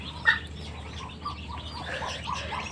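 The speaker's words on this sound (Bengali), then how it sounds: "কত সুন্দর পুচকি পুচকি হাঁসের বাচ্চাগুলা" White Chinese ducklings on a duck farm peep and chirp in short, scattered calls, fairly soft over a steady low background hum, with no voices.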